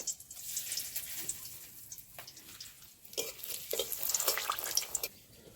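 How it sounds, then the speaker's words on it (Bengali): Dried red chillies and two bay leaves hit hot oil for a tempering, giving a bright crackling sizzle that surges and spits in bursts, close and fairly loud, with no talking. "আমি এখন ফোড়নে দিয়ে দিচ্ছি শুকনো লঙ্কা, দুটো তেজপাতা"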